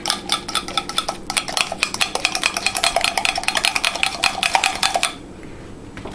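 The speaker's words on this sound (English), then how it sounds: "Mush them up." Utensil repeatedly mashing microwaved frozen bananas in a bowl, producing rapid rhythmic clinks and soft squishes for about five seconds, close and fairly loud, then stopping.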